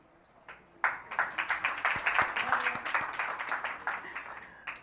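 An audience at a United Nations interview bursts into applause after a brief lull, dense clapping that stays loud and steady to the end.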